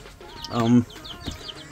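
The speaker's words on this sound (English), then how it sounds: "These are some chicks we got." Small birds peep in high, quick chirps, close by, with a deeper bird-like call rising briefly in the middle.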